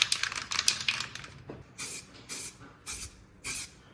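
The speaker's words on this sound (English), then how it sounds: "And now I'm putting some weld through primer on." Weld-through primer hisses from an aerosol can onto the boot floor of a BMW E30 drift build, four separate bursts of about half a second each with short gaps between, close and fairly loud, after a stretch of light tapping and rustling.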